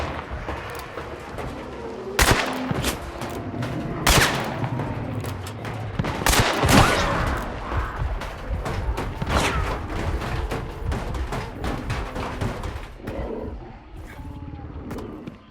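Pistol gunfire in the video game Hunt: Showdown, with sharp, loud shots cracking at irregular intervals over a steady outdoor ambience with birdsong.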